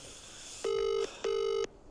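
A telephone rings out during a live prize draw call, two long electronic ring bursts with a short gap between them, clear over a quiet background.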